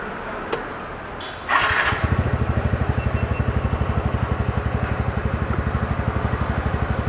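A TVS NTORQ Race XP BSVI scooter, 2021 model, starts after a few clicks: the starter whirrs briefly, then the small engine catches and settles into a steady, close, rhythmic idle putter that runs to the end.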